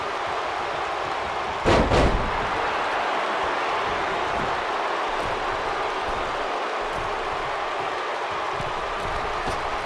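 A wrestler hits the mat hard from a running STO in a WWE steel cage championship match, Brock Lesnar against Demon Finn Balor. A single heavy thud lands early and is swallowed by a loud, continuous arena crowd roar.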